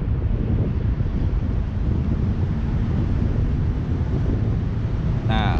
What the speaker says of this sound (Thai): ลมเนี่ยมันเข้ามาทางนี้เลยนะครับ